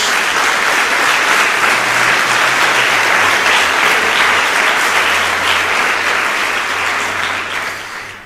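Loud, sustained applause from a large church congregation, a thick continuous roar of clapping that fades slightly near the end.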